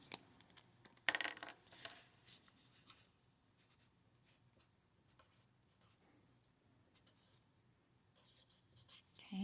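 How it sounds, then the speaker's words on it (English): Faint pencil or pen scratching on a worksheet line, in short quiet strokes and small taps with pauses between, close up and without speech. "So we're going to write outer ear on that line."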